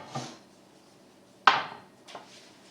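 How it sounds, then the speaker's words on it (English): A frying pan is shifted across a stovetop in a kitchen, giving three short knocks and scrapes of metal, the middle one sharpest, with quiet gaps between. "So let's move this over and bring our pan over here."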